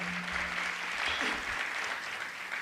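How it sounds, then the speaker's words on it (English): An audience at a community health camp anniversary gives a cardiologist a round of applause, a steady broad wash of clapping from many hands, with a low hum and brief voice fading out early on. "give him a big round of applause."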